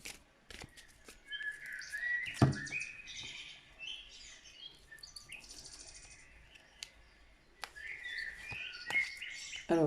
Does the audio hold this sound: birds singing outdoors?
yes